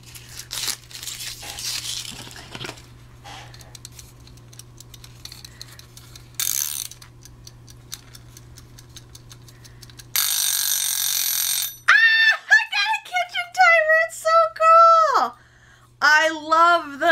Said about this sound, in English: we got that, and it's making noises. It is a kitchen timer